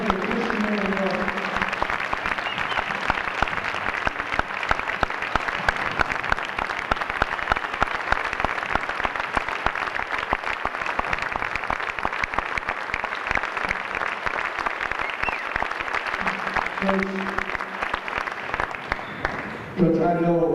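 A crowd gives a coach a long, loud round of applause at a college senior night, with dense continuous clapping and cheering, and faint speech heard briefly at the start and end.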